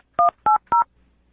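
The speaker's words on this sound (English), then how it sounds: "I'm going to dial the phone right now" Three short touch-tone beeps from a telephone keypad being dialed, evenly spaced, loud and close, with near silence afterward.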